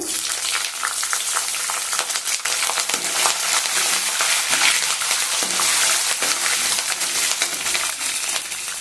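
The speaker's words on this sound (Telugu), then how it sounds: "పల్లీలు తాలింపు గింజలు దూరగా వేగుతానే పచ్చిమిరపకాయ ముక్కలు" Peanuts, tempering seeds and chopped green chillies fry in hot oil for upma. The sizzle is loud, dense and continuous, with crackling and spattering pops throughout, heard close up with no talking.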